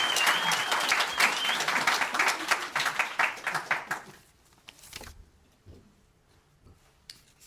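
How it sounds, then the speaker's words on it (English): An audience at a book launch applauds loudly and densely, and the clapping then thins into a few scattered claps and stops. "Can we get another round of applause for our MCs?"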